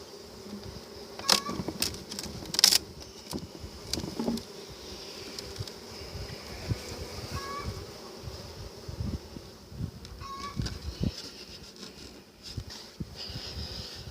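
Honey bees in an open hive buzz continuously after their queen is removed, a droning, wavering hum with individual bees passing close, plus occasional light knocks and rustles.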